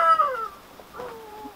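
Excited backyard chickens cluck near a garden greenhouse in summer, giving a couple of short rising calls and murmurs, fairly close and moderately loud with no talking.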